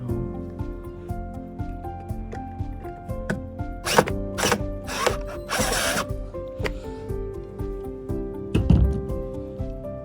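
Screws tightened on an outdoor WiFi security camera mount with a hand tool, faint ratcheting clicks joined by several sharp bursts of rasping, scraping noise over a steady hum, close and without talk.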